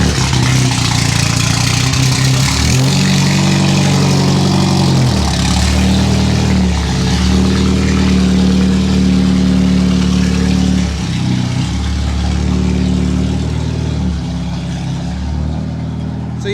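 Race car engine at Road America on practice day, running loud and steady up close with repeated rises and falls in revs, a continuous mid-pitched roar that eases slightly near the end.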